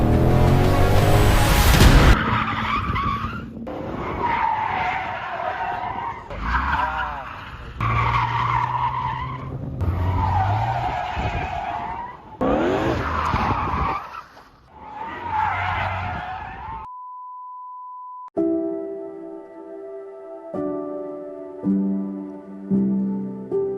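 A Ford Mustang Shelby GT500 drifts with loud, repeated tire squeals and skids over engine roar, heard in several long bursts before a sudden cut to quieter sound.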